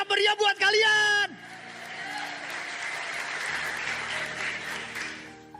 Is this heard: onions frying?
no